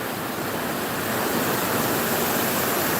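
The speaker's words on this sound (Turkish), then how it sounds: "Yağmurlardan sonra daha coşkun akıyor ama bu sene fazla yağmur yağmadı." A waterfall pours into a deep, rock-carved pool along a stream, a steady, dense roar of rushing water that stays loud and unbroken throughout, with no voices.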